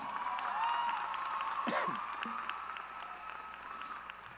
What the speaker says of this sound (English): Students, give them a big round of applause